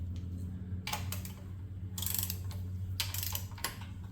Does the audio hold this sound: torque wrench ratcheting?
yes